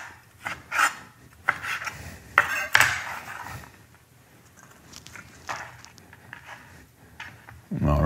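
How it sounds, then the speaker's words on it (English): A knife roughly chops slices of halloumi on a board with close, irregular taps and rasping scrapes, while someone talks over them. "Now the halloumi. So we're gonna do, three of those slices here. And we're just gonna chop it roughly here."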